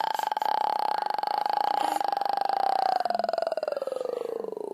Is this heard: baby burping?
yes